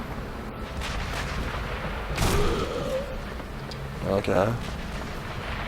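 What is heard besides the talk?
gunfire in video game Sniper Elite V2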